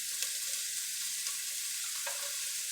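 Minced garlic sizzles steadily in a pan with onions for tomato sauce, a constant bright frying hiss with a few soft stirring scrapes and no voices.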